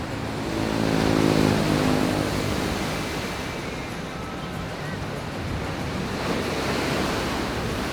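Sea waves wash steadily onto the shore in Alexandria, a broad continuous roar close by, with wind buffeting the microphone throughout.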